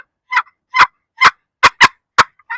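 A handheld turkey call imitates a turkey gobble while scouting turkeys outdoors: seven loud, close, sharp yelping notes in a fairly even rhythm, nothing else audible between them.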